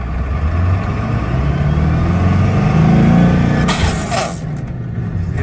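A Ford F250 pickup truck's Powerstroke diesel engine idles and revs up, a close, rough rumble that rises and then eases off, with a brief rattling burst near the end.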